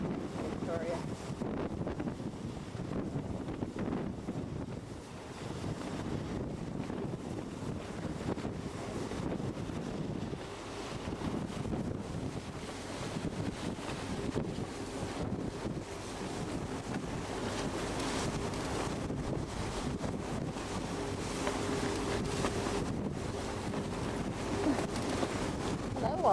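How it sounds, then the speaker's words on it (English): Steady wind buffeting on the deck of a cruise ship on the Pacific heading to Victoria, a continuous loud rumbling roar with water and surf noise underneath, sustained throughout with no clear speech. "Very windy day."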